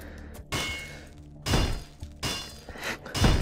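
A creature in the Meat Fortress video game bursts apart as it dies. The moment is a string of sharp, cracking, shattering impacts, four or five close and fairly loud hits spread across a few seconds.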